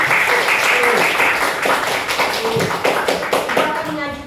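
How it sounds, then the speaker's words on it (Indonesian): Students in a classroom clap for a classmate, a brief burst of close, loud applause that fades near the end, with voices mixed in throughout. "Oke, tepuk tangan untuk dia."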